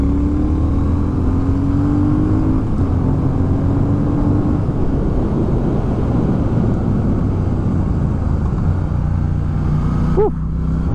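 A Triumph Speed Twin motorcycle engine revs up hard while accelerating, a loud, sustained rising roar with the pitch climbing through the gears before easing off near the end, with no voices.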